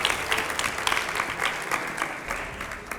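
Applause from a studio audience at a televised show featuring BJP MP Ravi Kishan, steady dense clapping throughout, fairly loud and sustained with no talk over it.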